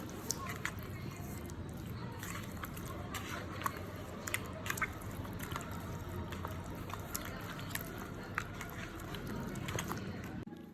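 Raw chicken pieces are mixed by hand with vinegar, salt and baking soda, giving steady wet squishing and soft crunchy rustling, with small clicks and sharper taps recurring throughout at a close, moderate level.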